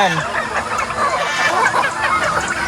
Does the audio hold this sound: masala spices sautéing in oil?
no